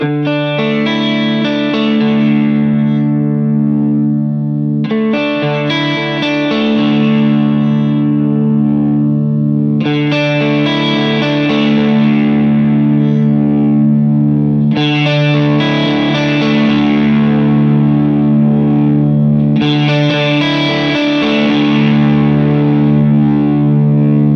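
Electric guitar run through an amp block with a compressor, its output level raised until it boosts past unity, playing repeated distorted chords in five sustained phrases, loud and steady with a chorus-like shimmer and no talk.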